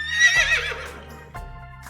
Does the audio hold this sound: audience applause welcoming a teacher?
no